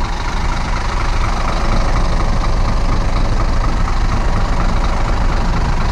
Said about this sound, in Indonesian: Suara khas dari mesin sasis Scania.